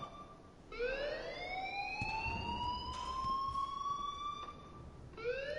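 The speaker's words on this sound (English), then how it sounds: "please turn off that alarm since that's your job" A video game alarm wails in a repeating rising siren sweep, loud and steady, with each tone gliding upward for several seconds before restarting near the end.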